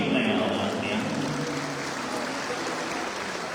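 An audience applauds at a wedding ceremony, a dense steady patter of clapping that slowly softens, with a voice speaking over it.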